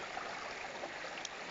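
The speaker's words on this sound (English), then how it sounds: "Just having a quick sit down by this nice stream" A small stream flowing steadily beside a walking trail on the Mawddach Way in Wales, a close, continuous gurgling wash of water with no voices.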